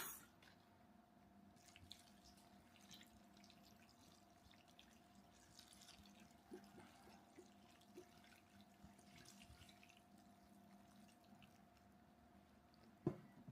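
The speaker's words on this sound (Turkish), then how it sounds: "Şimdi yarım litre üzüm sirkesi ekliyorum." Grape vinegar poured onto a red cabbage pickle gives a faint, continuous trickle with occasional soft drips under a steady low hum, ending in a brief louder clatter.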